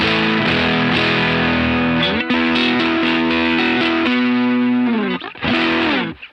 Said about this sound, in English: the other drive pedal on my board is the Walrus Audio 385